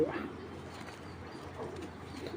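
Soft, low cooing of racing pigeons, a couple of rounded calls rising out of a quiet background hum, close by.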